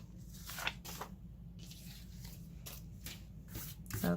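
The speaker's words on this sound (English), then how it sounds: "Get that tape backing off." Tape backing being peeled off a scrapbook layout page, a few soft brief crackling rips close by, faint over a steady low background hum, with no talking.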